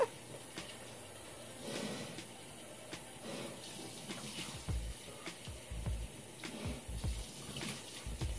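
Shower water runs steadily while someone rinses their face, a soft continuous spray with occasional close splashes and thumps as water hits skin and the floor.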